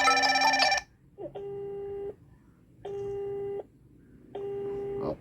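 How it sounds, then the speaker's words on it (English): Y22 smartwatch ringing for an incoming Bluetooth call: after a burst of higher chime, a repeating electronic ring tone sounds in three evenly spaced bursts of about a second each, clear and close with silent gaps between. "we are receiving a call from John."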